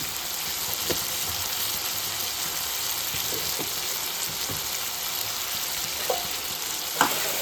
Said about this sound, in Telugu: టమాటా పచ్చిమిరపకాయలు ఇట్లా వేయించుకొని ఇగో ఇందులో జీలకర్ర వేసుకున్నా